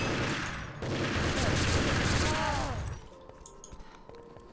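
MP5 submachine gun fire in a competitive video game match, a dense rapid burst of shots over the first three seconds, with a commentator talking over it, then quieter game sounds.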